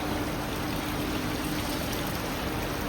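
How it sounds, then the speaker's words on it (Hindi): Water pours steadily down a small waterfall in an indoor science museum exhibit, a continuous close rushing wash with no pauses. "ये यहाँ से आबशार से पानी बहा"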